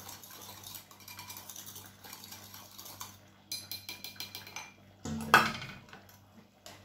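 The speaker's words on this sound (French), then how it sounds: "de la sauce que j'ai mis dans mon bol avec 2 cuillères de farine, 2 cuillères à soupe de farine. Je mélange un petit peu." A spoon scrapes and clinks against a bowl as a sauce is mixed with two tablespoons of flour, making rhythmic light taps and scrapes close by with a louder clatter near the end, and no one speaks.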